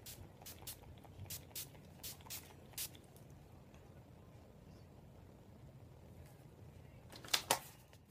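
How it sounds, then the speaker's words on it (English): NYX matte finish setting spray mists onto a face in a string of short, quiet hissing bursts over the first few seconds, followed by two sharper puffs near the end. "I'm going to be using my NYX matte finish spray"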